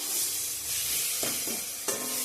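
Spice masala frying in a pan, a close continuous sizzle with two or three distinct scraping stirs of a spoon through the paste.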